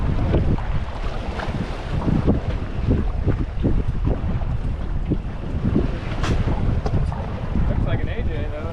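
A commercial fishing boat's motor runs steadily out at sea. The drone is loud and continuous, mixed with heavy wind buffeting the microphone and the wash of waves, with faint voices in the background.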